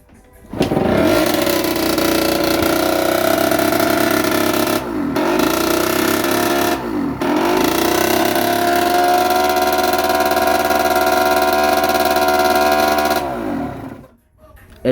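A Derbi motorcycle engine catches and runs loud and close, idling with rough mechanical clatter, briefly dipping twice as the throttle drops, then cutting out near the end.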